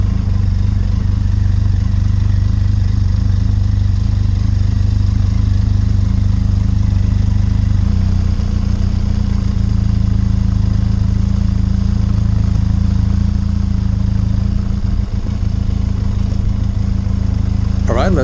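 A Benelli TRK 502 X motorcycle engine chugs low and steady on an off-road coastal trail, the note shifting as it moves off, with rumbling wind and clatter.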